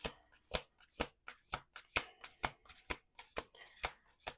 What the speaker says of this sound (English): We're doing one more shuffle.